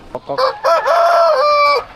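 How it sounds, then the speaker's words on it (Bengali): A fighter rooster crows once up close, a loud drawn-out cock-a-doodle-doo lasting under two seconds after a few short clucks. "কক কক ডাকো একটা ডাক দাও টাইগার"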